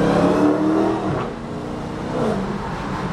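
Dodge Challenger with an 810 hp engine running without throttle, a loud, steady deep rumble close by with slight swells in pitch, no voices.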